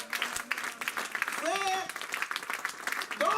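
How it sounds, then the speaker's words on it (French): Church congregation applauding during a French-language sermon, a steady patter of clapping from many hands with voices calling out over it. "En donnant une acclamation au Seigneur"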